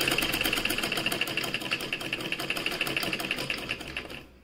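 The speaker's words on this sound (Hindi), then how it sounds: "और ये किनारे की सिलाई लगाएंगे" A sewing machine stitches the finishing edge of a square neckline with a rapid, even mechanical whirr up close, running steadily and then winding down at the very end.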